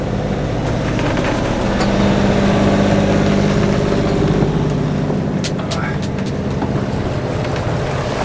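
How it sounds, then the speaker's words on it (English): A sailboat's auxiliary engine runs steadily while motoring in windless conditions at dawn, a constant loud drone with water washing around the hull. "there's no wind, the engine's running."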